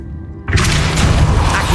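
Depulso spell cast in Hogwarts Legacy: a sudden loud booming burst about halfway through, after near silence, followed by a sustained rumbling, crackling wash of magical force.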